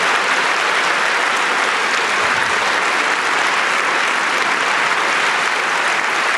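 Sustained, dense applause from parliamentarians in a joint congress session after the vote enshrining abortion rights in the French Constitution, loud and steady throughout with a broad crowd wash and no clear talk.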